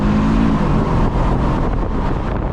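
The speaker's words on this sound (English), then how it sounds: "It spins on launch, 4 wheels." An Audi RS3 8Y launches hard with all four wheels spinning, giving a loud roaring engine rush buffeted by wind noise, close and continuous for a couple of seconds.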